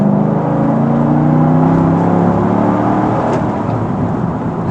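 Car engine pulling hard in third gear around 2,500 RPM, a loud, steady droning cabin roar with a rising tone that holds throughout.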